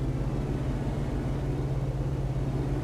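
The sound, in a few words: truck engine droning in video game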